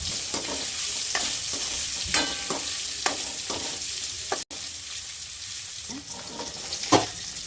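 Paneer pieces frying in a pan with turmeric and salt, stirred with a series of distinct scraping strokes over a soft, continuous sizzle, close and moderately quiet.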